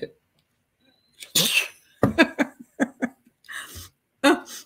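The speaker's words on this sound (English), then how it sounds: "I got to sneeze." A single person sneezes twice at close range, each sneeze a sharp burst, with breathy sounds and small throat noises around them.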